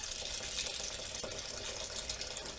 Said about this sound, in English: And then we're going to add some filtered water.